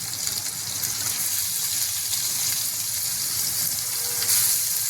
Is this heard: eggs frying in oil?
yes